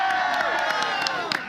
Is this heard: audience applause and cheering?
yes